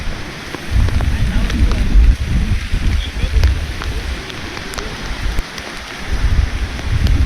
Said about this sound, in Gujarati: ઝરમર ઝરમર મેઘ વરસી રહ્યો છે